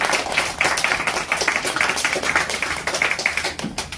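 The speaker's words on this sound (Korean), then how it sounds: "박수 한번 보내주세요" An audience at a church outreach gathering in Kagoshima, Japan claps, uneven hand claps with some close sharp slaps, moderately loud and continuous.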